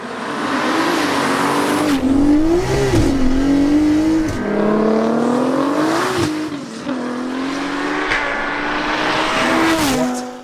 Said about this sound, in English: the third fastest car in Living Life Fast has to be the 900 brake horsepower Audi A3 built by Storm Developments